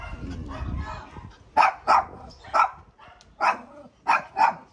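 A dog barks about six times in short bursts, loud and close, after a stretch of low rumbling background noise.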